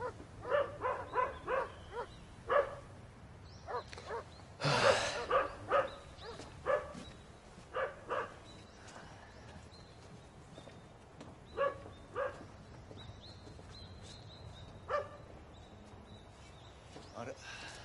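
Police guard dogs barking in a Japanese security unit setting, a series of sharp barks in irregular bursts throughout, with one louder burst near the middle, under faint background noise.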